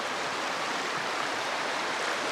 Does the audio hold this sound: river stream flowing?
yes